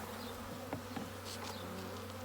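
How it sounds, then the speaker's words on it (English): Honey bees buzz steadily on a hive frame during an inspection, a close, continuous hum with faint crackles and small knocks. "let's get these bees off of this frame"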